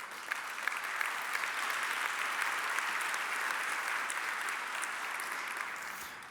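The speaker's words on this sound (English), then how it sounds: "I think it deserves a big round of applause that this is made happen." Audience applause at a startup demo day for a circular economy accelerator, a dense, steady roar of many hands clapping that holds throughout and tapers slightly at the end.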